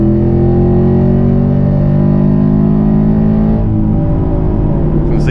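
A 2020 Chevrolet Camaro SS 1LE V8 revs hard through third gear, its steady rising engine roar loud and close, then a brief dip at the upshift before it pulls again.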